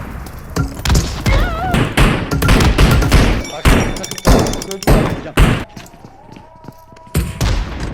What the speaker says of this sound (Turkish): Barış abi bize niye roket atıyorsun?